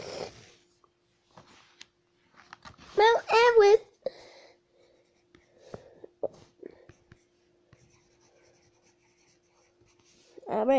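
Pencil scratching on homework paper, soft intermittent writing strokes close by, with a child's whispering and brief voiced sounds around it.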